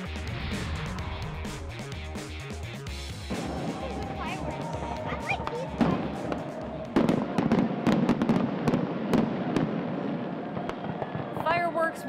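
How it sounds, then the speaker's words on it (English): Independence Day fireworks display over the City of Worcester at night, a loud, continuous barrage of booms, bangs and crackling bursts heard from nearby for the whole stretch. "We're lighting up the sky tonight as part of the City of Worcester's Independence Day fireworks celebration."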